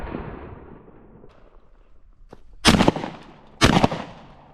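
Two loud, close shotgun blasts about a second apart, each with a sharp crack and rolling tail, fired while hunting pigeons and wood pigeons outdoors; quiet ambient noise comes before them.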